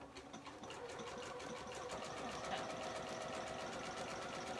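A sewing machine sews a buttonhole with a buttonhole foot, a continuous close rhythmic motor hum and needle chatter running steadily alone throughout.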